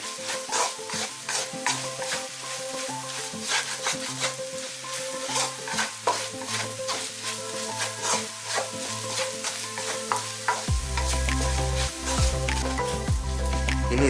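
Beef fry being stirred in a pan after Kashmiri chili powder is added, Kerala style: steady sizzling with repeated scraping stir strokes, close and fairly loud, a low hum growing heavier near the end, with no talking.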